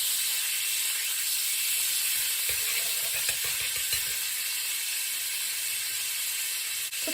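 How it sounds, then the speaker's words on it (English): Butter melting in a hot pan for a creamy mac and cheese sauce, a steady hiss and sizzle with faint small crackles underneath, continuous and close. "I'm just going to allow the butter to melt here."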